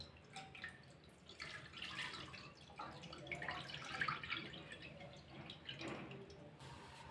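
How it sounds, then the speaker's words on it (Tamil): One litre of milk poured into a cooking pan, a soft continuous liquid pour with light splashing and dripping, fairly faint and close. "1 லிட்டர் பால் சேர்க்குறேன்."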